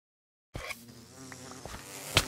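Bees in the video game Minecraft buzz close and steady, a continuous droning hum that begins abruptly and carries on alone, with a brief louder click near the end.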